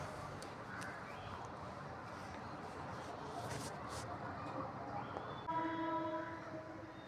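Pressure cooker whistling while chicken cooks on a home kitchen stove, a sustained piercing steam whistle that rises and shifts in pitch over a hissing background, loud and close.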